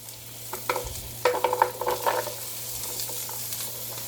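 Onions and celery sauté in a Power XL StirMax multi-cooker with a low sizzle broken by a few clattering stirring bursts, moderately close and with no talk.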